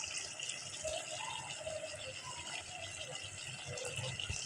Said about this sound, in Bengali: দেখেন আমি এখন ঝোল দিয়ে দেবো,